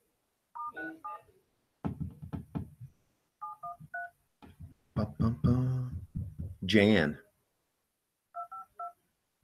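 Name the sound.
telephone dialing tones for a phone call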